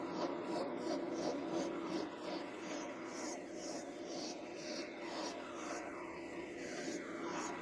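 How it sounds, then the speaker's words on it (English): Hand file rasping the angled tips of a homemade self-centering drill bit cut from 3/8 inch metal round bar, a steady, close scraping texture of repeated back-and-forth strokes continuing throughout. "use the file again to angle the tips so that it matches the angle on the head of a screw"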